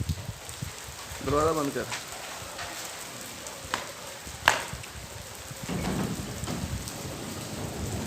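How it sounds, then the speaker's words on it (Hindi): Heavy rain pours steadily in a Punjab village, a dense continuous hiss with a sharp knock partway through; a voice speaks briefly over the downpour, which swells louder toward the end. "अभी फिर बारिश आ गई है और मज़ीद तेज़ हो गई है"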